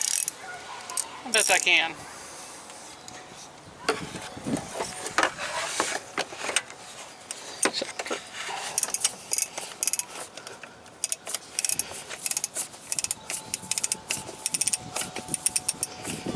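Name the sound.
socket wrench tightening oil pressure switch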